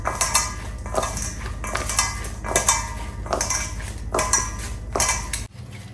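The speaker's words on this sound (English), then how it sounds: "Let's go ahead and mix this all together." Burger ingredients are mixed in a bowl with a utensil, giving rhythmic clinking and scraping strokes in repeated bursts, close and fairly loud, with no talking.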